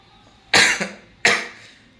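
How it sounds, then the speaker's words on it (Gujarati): Two sharp, loud coughs from a man who has been ill, spaced about a second apart, in a quiet room. "ઉધરસ બહુ આવે"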